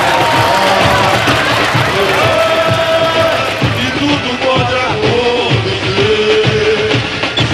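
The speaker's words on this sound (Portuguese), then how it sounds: "Palmas!" Carnival crowd at a samba school parade cheers and applauds loudly and continuously, a dense roar of claps, whoops and shouting voices, with a few drawn-out calls rising above the noise.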